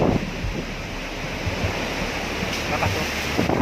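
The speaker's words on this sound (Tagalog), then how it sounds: "naririnig yung lakas ng hangin" Strong wind roars steadily after a typhoon, a loud continuous rushing gust noise buffeting the microphone, with faint voices briefly underneath.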